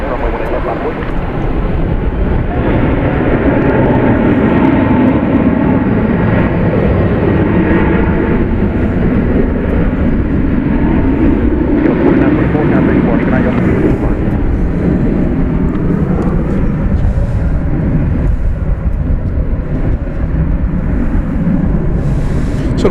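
A Kalitta Air cargo jet bound for Anchorage rolls on the runway at night at Dallas Fort Worth International Airport, a steady loud engine roar filling the whole stretch with broadband rumble and no letup.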